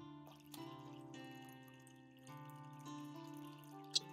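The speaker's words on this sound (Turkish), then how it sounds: "Şimdi bir su dökelim ya." Water is poured in the Potion Craft alchemy game as a soft liquid effect over a quiet, tuneful music backing, ending with a sharp bright blip.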